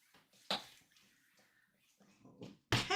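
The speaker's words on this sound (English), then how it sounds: "I'm gonna start by wetting this down. I really want this wet, and this thing gives a lot of water" Water splashed onto a wetted journal page in a few short bursts, close and fairly quiet, with soft handling noises in between.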